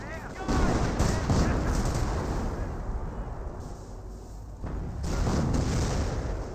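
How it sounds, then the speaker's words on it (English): Dense gunfire and artillery booms from the WWII strategy game Company of Heroes, with a Panzerfaust launch among them. The battle runs loud and continuous under an excited commentator talking. "Panzerfaust fires onto the lieutenant, but did not get a kill there."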